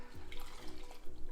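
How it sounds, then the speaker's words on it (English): Dirty cleaning water pours from a container into a kitchen sink, a short close splashing gush that surges and dips, no speech over it. "I just pour it down the sink"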